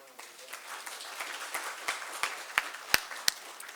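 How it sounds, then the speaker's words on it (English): Scattered applause from a press briefing audience starts softly as a diffuse patter and then gives way to a few sharp, isolated claps toward the end. "a round of applause"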